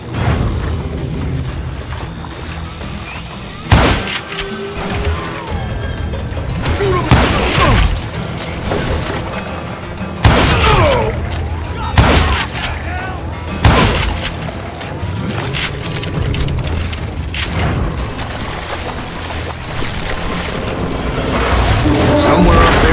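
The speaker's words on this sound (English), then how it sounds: "It was then that a fusillade of bullets come raining down from on high" Gunfire rains down from above in a Call of Juarez Gunslinger shootout, a loud fusillade of shots and booming impacts in bursts, with a voice narrating over the din.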